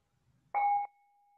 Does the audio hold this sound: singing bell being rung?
yes